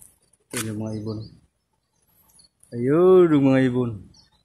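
Wild birds calling in a mountain setting, two separate bursts of harmonic, cooing-like calls with a quiet gap between, fairly near and clear.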